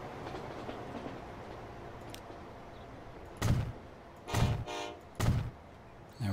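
A train passes in the rail-building game Transport Fever 2: a steady low rumble carries three loud, broad bursts in quick succession near the end, with no talking.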